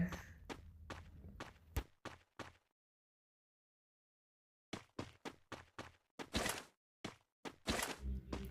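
Footsteps in the battle royale game Free Fire come in a quick run of distinct close thumps, stop for a silent gap, then resume faster and heavier with a few scuffs.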